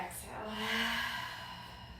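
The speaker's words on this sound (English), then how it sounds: "Inhale. And exhale." A long, breathy exhale during a yoga breathing exercise, close and steady, rising to a soft peak before trailing off, heard on its own without talk.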